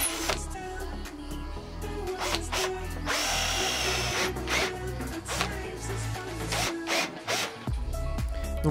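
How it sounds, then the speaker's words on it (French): Power drill boring four holes into bathroom furniture during a repair, with bursts of whirring drilling separated by short pauses, loud and close, no talking. "Puis il perce 4 trous."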